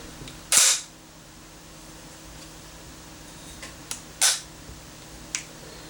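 Sniper rifle shots in a VR video game, two sharp, loud cracks spaced a few seconds apart with a quieter click after each, over a low steady background hum.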